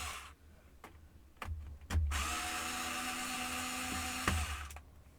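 A power screwdriver whirs in bursts while backing screws out of a Compaq F700 laptop, with short spins at first and then one steady close drilling whine that runs for several seconds with no talk.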